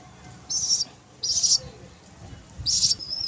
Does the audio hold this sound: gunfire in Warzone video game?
no